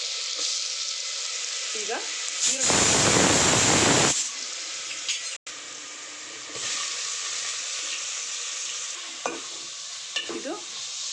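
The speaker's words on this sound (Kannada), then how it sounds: "ಇದು ಫ್ರೈ ಆಗ್ತಾ ಇದ್ದಂಗೆ ಟೊಮೊಟೊ ಹಾಕ್ಕೊಂಡ್ಬಿಡೋಣ." Two spoonfuls of ginger garlic paste frying in a pan for chana paneer masala: a close, loud sizzle with a sharp burst of hissing early on and scattered stirring scrapes, while a voice briefly speaks.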